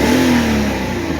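A 1993 Mercedes 500E barn-find engine, running on old fuel with a fresh oil change, revs up in a short, loud, steady burst with a rising then falling pitch.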